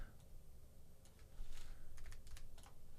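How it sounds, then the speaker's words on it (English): Computer keyboard keys are tapped in quick, light clicks, a few isolated presses followed by a short cluster of rapid taps, faint and close against a quiet room hiss. "Use your keyboard arrow keys to nudge it up or down"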